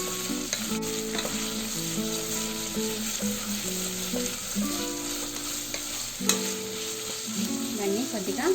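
Vegetables for khichdi frying in a pressure cooker, a steady close sizzle with repeated stirring scrapes and tonal clinks throughout.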